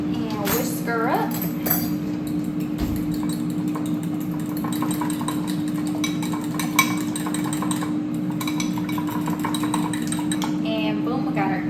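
Seasoned eggs whisked in a bowl, with quick metallic clinks and scraping close by over a steady engine-like hum, and a voice now and then.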